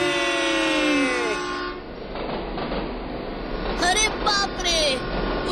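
A cartoon passenger train rolls along with a loud horn blast at the start and later shorter toots, wheels clattering steadily underneath while characters talk over it.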